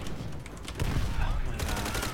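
Bursts of rapid gunfire in Call of Duty: World at War, several sharp volleys close together over a couple of seconds, loud and dense, with faint voices in the mix.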